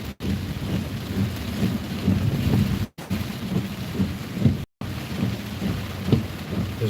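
Steady rain hisses and drums continuously on a rainy city road in Charlotte while driving, a dense broadband wash with low rumbling underneath, briefly cutting out twice.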